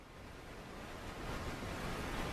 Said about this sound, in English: This is the pink noise right here.